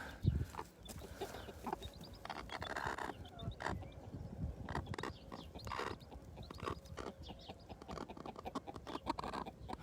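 A mother hen clucks over her chicks in soft, quiet bursts. Scattered rustling and pecking sounds mix in with irregular low calls and faint scratching nearby.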